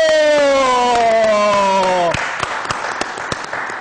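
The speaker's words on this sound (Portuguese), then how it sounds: "Vamos aplaudir ele que está voltando." Audience applause and cheering at a professional gathering, rising as a sustained tonal sound fades out around two seconds, leaving loud dense clapping with sharp individual claps.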